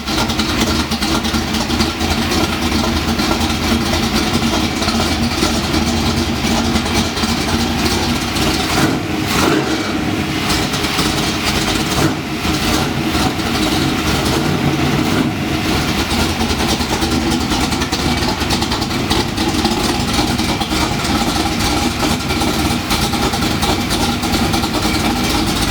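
A small engine idles outdoors on a cold day, running steadily and close by for the whole stretch without a break, with no talking over it.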